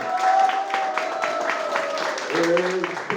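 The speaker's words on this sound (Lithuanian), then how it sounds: "Plojimai." Audience applause at a Lithuanian ceremony, moderate and steady, with tonal sounds and voices mixed in over the clapping.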